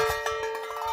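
A wind-blown noisemaker set out to scare animals from rice and vegetable fields gives off a metallic ringing clank, a sustained bell-like tone with quick irregular knocks, close and fairly loud, lasting under a second, no talk.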